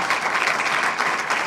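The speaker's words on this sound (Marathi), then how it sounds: "कारण योगितासाठी टाळ्या होऊ दे खरंच." An audience claps for an honoree at the Thane Art Guild's 12th anniversary awards ceremony. The dense, even applause holds steady throughout, with no voices.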